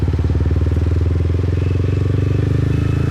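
Motorbike riding through the streets of Saigon's District 6, a steady engine drone with a throbbing rhythm carrying throughout, close and loud with no talk over it.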